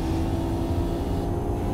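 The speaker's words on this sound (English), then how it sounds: "The revs of the Skyline though, it sounds amazing." A loud, steady Nissan Skyline engine drone in Gran Turismo 4, held at high revs, humming continuously throughout with no pauses.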